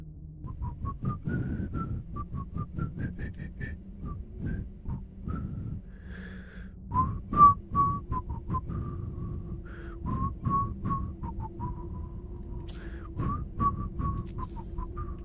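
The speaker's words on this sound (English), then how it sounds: "Whistle that tune." Someone whistles a wandering, breathy tune alone at moderate volume, the notes sliding up and down over a low steady background hum, with no talking.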